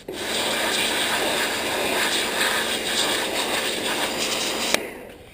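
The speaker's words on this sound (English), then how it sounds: "this high pressure washer here on skin will rip." A high pressure washer running to clean mud off a downhill mountain bike held in a repair stand, a loud steady hissing spray, close and continuous, cutting off abruptly near the end.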